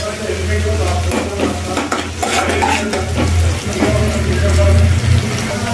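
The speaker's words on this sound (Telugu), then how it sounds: "ఉల్లిపాయ ముక్కలు కొద్దిగా వేగిపోయాయి।" Onions, green chillies and curry leaves frying in a pan for a vegetable curry, a steady close sizzle with stirring clatter and spoon scrapes throughout.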